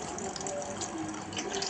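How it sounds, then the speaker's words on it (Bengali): Fresh coconut milk, pressed with hot water for Bagerhat-style semai, is strained through a strainer and makes a brief, steady trickling pour of liquid, close and soft. "তো এভাবে করে ছাঁকনি দিয়ে ছেঁকে নিচ্ছি"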